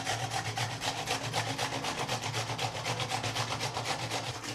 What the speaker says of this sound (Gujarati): હવે આ જ રીતે આપણે ટમેટા ખમણી લઈશું એટલે છાલે ઉતરી જાય